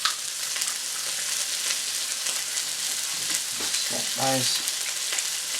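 Grated garlic sizzles steadily in a hot pan while sweet and sour sauce is made, a constant close hiss throughout, with brief speech near the end.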